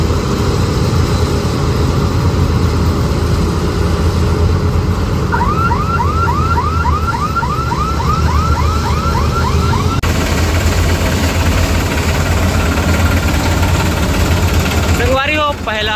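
A tractor with a trolley attached reverses on a wet harvested field, its engine idling loudly throughout while a repeating warbling reverse beeper chirps in a rapid series, with a voice talking over it.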